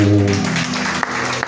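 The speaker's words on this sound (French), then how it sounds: "On applaudit le Seigneur" Congregation clapping during a Sunday church service, a short burst of applause mixed with a sustained musical tone at the start and a voice near the end.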